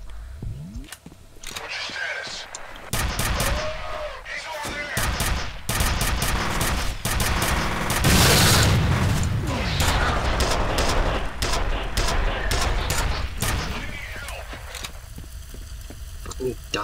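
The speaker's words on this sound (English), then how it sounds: "Die when I shoot you, bastards." Rapid bursts of gunfire in the shooter F.E.A.R., loud repeated volleys and single shots cracking in quick succession across the whole stretch, with a voice talking between them.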